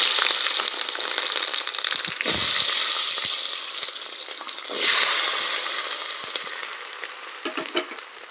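Garlic, onion and fenugreek fry in sesame oil for a village-style medicinal kuzhambu, giving a loud, steady sizzle close by with two surging bursts as the pan is stirred.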